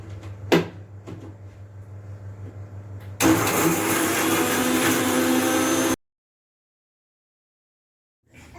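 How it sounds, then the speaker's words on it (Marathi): A kitchen mixer grinder grinding garlic cloves and green chillies, preceded by a few clicks and knocks of the lid being set, then roaring loudly for about three seconds before cutting off abruptly into silence. "मी ह्या तीन लसणाच्या कड्या आणि ह्या हिरव्या मिरच्या मिक्सरवरून काढून घेणार आहे"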